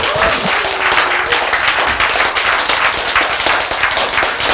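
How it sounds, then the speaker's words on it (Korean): Sustained applause from a live audience at a lecture on genes, a dense, steady wash of many hands clapping that fills the whole stretch at close, loud level with no talk over it. "박수!"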